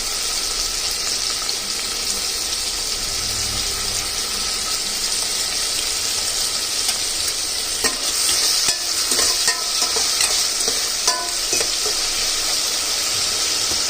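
Tomato, onion, sugar and salt fry in a pan, giving a steady, loud sizzle with faint stirring clinks and scrapes toward the end, and no voices.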